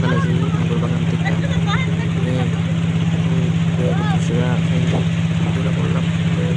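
A boat engine runs steadily during a ride departing from Nagar Bagan, giving a constant low drone and hum. People talk loudly over it throughout.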